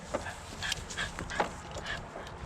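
Toby, an excited dog on a fox and coyote trapping line outdoors, whimpers and yips in a run of short, high, close cries, several sharp peaks with panting-like breaths between.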